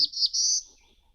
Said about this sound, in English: this bird, like the black-throated green warbler, is very buzzy